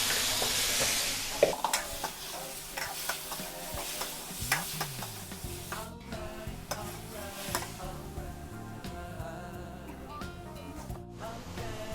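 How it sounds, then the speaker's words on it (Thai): Shrimp stir-fried in a hot pan for a Thai curry, with bursts of hissing sizzle at the start and then repeated scraping and clanking of a spatula tossing the food, close and fairly quiet. "กุ้งลงไปนะคะ ไปผัดเลยค่ะ"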